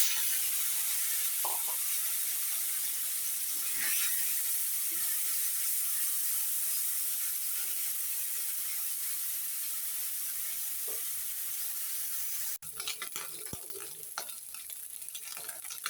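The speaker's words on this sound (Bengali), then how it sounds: "এই যে মাছটা ভালোভাবে ভেজে নিতেছি।" Small fish coated with turmeric, chili and salt fry in hot oil in a wok with a soft, even, continuous sizzle, followed near the end by a few close clatters and scrapes of a utensil.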